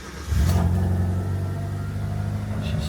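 A Proton Satria GTi engine cranks and quickly catches, then settles into a loud, steady idle heard up close with no talking.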